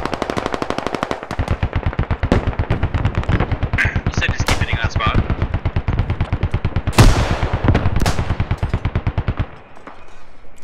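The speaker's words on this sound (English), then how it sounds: "Good hit with the helicannon" Rapid, loud, sustained automatic fire from a helicopter-mounted cannon in the military shooter game Squad, an unbroken rhythmic burst lasting several seconds, with faint voice chatter underneath.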